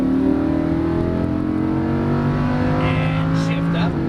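A Lamborghini Huracan accelerates on a race track, its engine note climbing steadily and loud throughout, with an instructor's voice talking over the engine.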